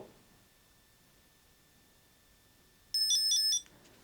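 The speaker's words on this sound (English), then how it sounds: "Press the button for 2 seconds until you hear 3 beeps." Three quick high-pitched electronic beeps from an Eufy SmartTrack Link tracker entering pairing mode, close and clear over faint room hiss.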